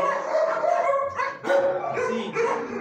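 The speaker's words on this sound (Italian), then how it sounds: "abbiamo questo cucciolo di meticcio nero col petto bianco" A black mixed-breed puppy with a white chest yips and barks in short bursts at close range, with a few whimpering notes mixed in.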